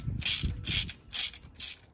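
A ratchet with socket extensions cranks loose the 17 mm transmission fill plug on a Honda Pilot, giving four loud, evenly spaced bursts of rapid clicking close up, with no talking.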